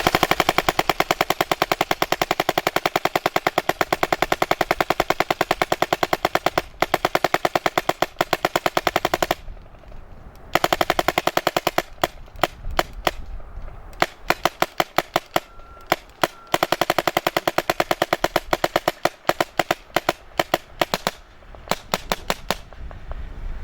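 A Tippmann A5 paintball marker fires rapid, sustained strings of loud, sharp pops near the listener, with brief pauses between volleys.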